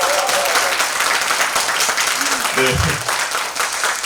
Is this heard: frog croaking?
no